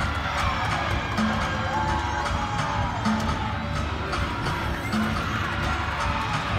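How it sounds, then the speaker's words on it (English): At a college gymnastics meet in a Kentucky arena, a crowd cheers for a Kentucky gymnast, and the noisy indoor applause and shouting holds steady throughout. "And Amanda Cashman delights the crowd and her team."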